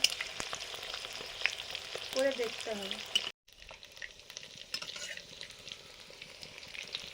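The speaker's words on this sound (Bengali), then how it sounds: "পরপর মুইঠাগুলো তুলছি আর ভাজা হচ্ছে" Chitol fish muitha dumplings frying in oil, with a soft, steady sizzle and a few scrapes. A voice speaks briefly over the frying, and the sound breaks off for a moment before the frying resumes more quietly.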